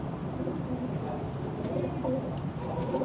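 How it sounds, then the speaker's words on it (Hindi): A pigeon coos softly nearby, low murmuring calls repeating against a faint background with a little voice activity. "तो दोस्तों ये कबूतर है"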